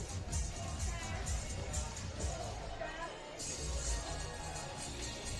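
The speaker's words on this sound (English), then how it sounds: "And the crowd are getting a little bit louder here." A rugby sevens stadium crowd at a women's cup quarter-final in Split rises in volume as a steady, distant murmur of voices and scattered shouts builds gradually, with a commentator talking over it.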